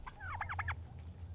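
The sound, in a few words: turkeys gobbling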